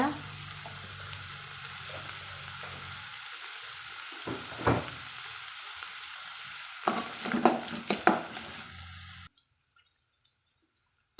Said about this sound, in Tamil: நல்லா நம்மளுக்கு முருங்கைக்காய் வதங்கிடுச்சுங்க